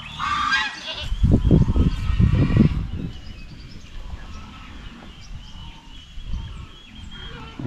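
Goats on a provincial farm let out a loud run of overlapping bleats in the first few seconds, then fade to quieter farmyard background with a few softer calls later.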